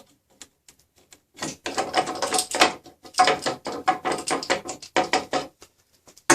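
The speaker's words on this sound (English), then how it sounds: "tighten the clamp, and now the board is held to the table very securely" F-style clamp tightened onto a board on a drill press table, a run of close, rapid ratcheting clicks and grinding rasps that carries on for several seconds, with no talking.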